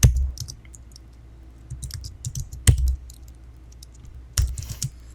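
Loud clicking keystrokes from a computer keyboard being typed on, arriving in uneven bursts with sharp louder clacks around the middle and near the end, close and clear with no talking.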